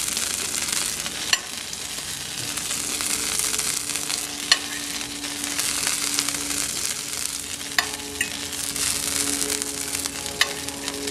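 Small red squirrel pieces frying in a pan, giving a steady, dense sizzle throughout with occasional faint pops and crackles, no talking.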